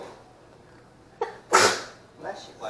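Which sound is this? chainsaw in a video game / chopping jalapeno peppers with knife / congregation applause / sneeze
sneeze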